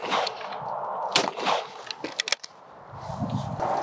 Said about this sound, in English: Now I'm going to shoot the Sporting and Compact